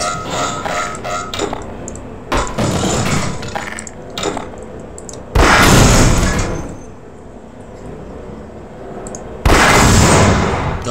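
Several heavy booming blasts in Half-Life, loud and sudden, with quieter rumbling and clatter between them.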